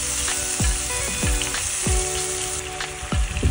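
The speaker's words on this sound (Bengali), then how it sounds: "মরিচ গুঁড়ো, হলুদ গুঁড়া আর জিরা গুঁড়া দিয়ে মশলাটা আর আদা রসুন বাটা দিয়ে ভালো মতো মশলাটা কষিয়ে নিব" Spice paste of ground chili, turmeric, cumin and ginger-garlic paste fries loudly in hot oil for potato singara filling, with a constant close sizzle and periodic scraping stirs.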